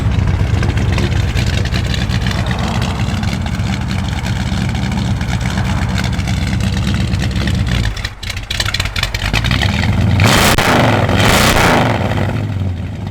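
A 1969 Plymouth Road Runner's V8 runs loud and close, a steady rumbling idle with a brief dip before the engine swells into a revving burst near the end.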